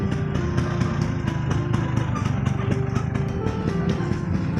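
A Vespa scooter engine climbing a mountain road, a close, steady puttering two-stroke drone with rapid regular pulses and no talk.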